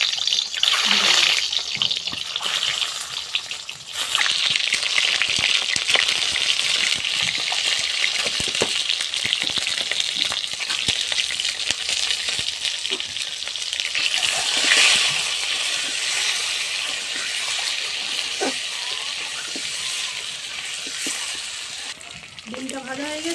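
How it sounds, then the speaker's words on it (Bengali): Eggs fry in hot oil with salt and turmeric, giving a loud steady sizzle with spatters and stirring throughout, while someone talks over it. "আমি ডিমটা লাল লাল করে ভেজে নেব, নুন হলুদ দিয়ে ভেজে নেব"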